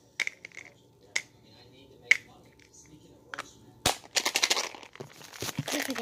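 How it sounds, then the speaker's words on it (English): Crinkly packaging from an old bubblegum packet is handled up close: a few sharp, isolated crackles, then a denser burst of rustling and crumpling near the end, fairly quiet overall. "Let me get my old bubblegum packet."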